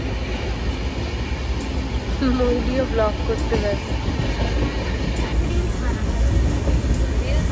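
The 15961 Howrah–Dibrugarh Kamrup Express rolls on from Chandannagar toward Bandel, a loud, constant low rumble of the moving coaches with periodic rhythmic clicks from the wheels, heard close from inside while a person speaks over it.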